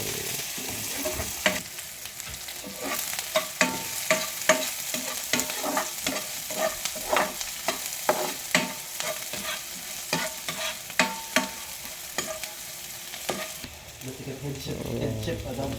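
Garlic and onion sizzle and fry in oil in a pan for lechon paksiw, with a steady crackle and sharp stirring clacks spaced through it. The stirring thins out near the end.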